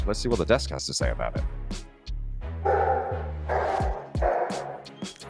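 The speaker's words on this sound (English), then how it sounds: "I don't know if you can hear my dog barking downstairs" A dog barks downstairs, several sharp barks in a quick burst, followed by someone talking over loud crowd and game commentary noise.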